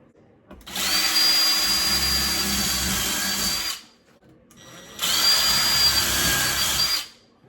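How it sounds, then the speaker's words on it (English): A power drill whirs loudly in two bursts of about three and two seconds while pre-drilling screw holes, with a short quiet gap between them. "I'm gonna go ahead and pre-drill a couple holes and put our screws in."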